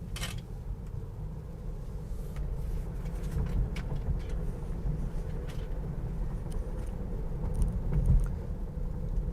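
Tesla electric car driving on the road, a steady low rumble of tyre and road noise from inside the cabin, continuous and moderately loud with slight swells.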